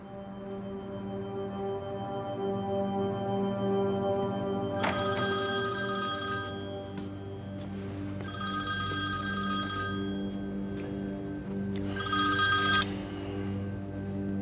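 A telephone rings indoors in three bursts of bright electronic trilling, each a second or two long with pauses between, over a faint steady hum.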